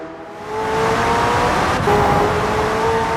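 McLaren Senna supercar engine in a racing video game, a loud sustained high-revving drone that rises and holds steady, with a brief shift in pitch near the middle.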